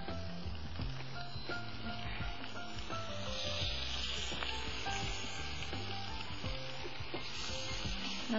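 Sliced onions frying in oil in a non-stick pan as they turn crisp and brown, with a steady close sizzle and crackle throughout and no talking.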